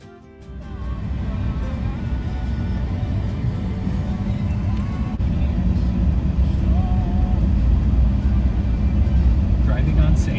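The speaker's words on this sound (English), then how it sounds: "Even though this is just sand we are driving on, they still have to have an area to get through." A car driving on a sand road, a steady low engine rumble and road noise building up after the first second and holding constant, with voices talking over it.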